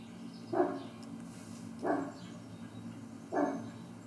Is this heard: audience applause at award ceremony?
no